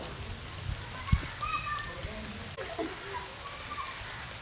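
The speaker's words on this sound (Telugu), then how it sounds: "సో వర్షం అనేది పడుతుంది." Rain falls steadily in a small village, a soft continuous patter and hiss with an occasional dull knock nearby.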